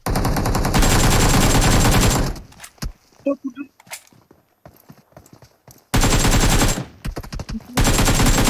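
Bursts of rapid automatic gunfire in a video game, loud and dense, come in two long stretches separated by a quieter gap of scattered footsteps, clicks and single shots.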